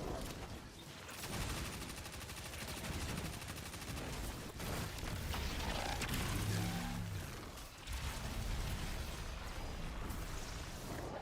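Loud, dense bursts of video game gunfire and explosions roll on without a break, building to a grenade blast near the middle, with a deep low boom and crackling debris.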